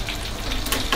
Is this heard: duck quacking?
no